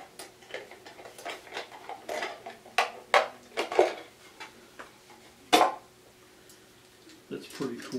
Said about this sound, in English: I've got another bigger stove here.